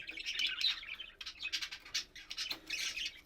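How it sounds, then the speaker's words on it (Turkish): A pair of budgerigars chirp and squawk in quick, bright bursts, close by and fairly loud, with short pauses between the chattering calls. "Bu şekilde iki tane çok güzel muhabbet kuşum var."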